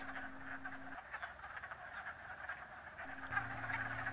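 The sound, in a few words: wood frogs croaking in a vernal pool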